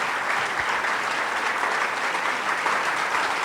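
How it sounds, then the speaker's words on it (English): A dense, loud round of applause from an audience after an interview with Lawrence O'Donnell, a continuous even roar of many hands clapping with no voices heard. "Big round of applause"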